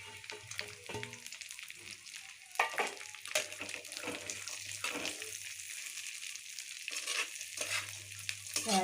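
Dry fruits and raisins roasting in a pan for fig laddoos, with a steady close sizzle broken by repeated scraping stirs of a spoon against the pan.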